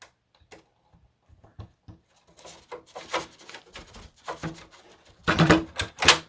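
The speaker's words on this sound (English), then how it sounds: "these are Z-bend pliers" Z-bend pliers kink rudder pushrod wire, giving a series of short, close clicks and metallic scrapes that start sparse and grow into denser, louder bursts of handling noise near the end.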